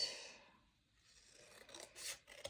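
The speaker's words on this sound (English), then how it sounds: "I'm going to trim this little piece down a little bit." Scissors trimming a small piece of craft material, quiet close snips and rasping cuts in a few short bursts, with no one talking.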